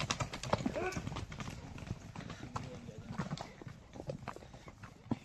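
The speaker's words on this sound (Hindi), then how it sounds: "वह तुम्हारा एक घोड़ा अलग भग गया।" Horses on a mountain road near Shimla and Kufri, hooves clip-clopping in a brisk, irregular patter at close range, with people talking over them.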